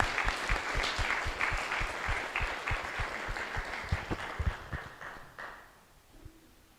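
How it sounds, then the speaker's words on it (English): Applause from a political party conference audience after a speech, a steady patter of claps with some individual sharp claps standing out, tapering off toward the end. "And now I would like to give a round of applause to Veronika."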